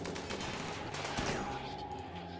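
Gunfire in the video game RimWorld: dense overlapping shots and bursts in a busy, continuous stretch of battle noise, with one sharper crack standing out midway.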